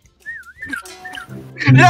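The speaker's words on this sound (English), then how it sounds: "I hate the whistle thing." In the Roblox Prop Hunt video game, a whistle plays a short, gliding, warbling tune, and a voice then shouts over it.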